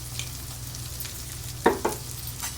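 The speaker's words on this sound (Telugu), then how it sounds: "ఉల్లిగడ్డ బాగా అల్చుకోవాలి" Onions sautéing in a pan with a steady soft sizzle, broken by two short scraping stirs near the end.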